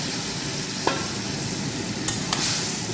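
Cauliflower with sour curd and ginger paste is sautéed in a pan, giving a loud, close, continuous sizzle punctuated by a few sharp scrapes of a spoon, with no voices.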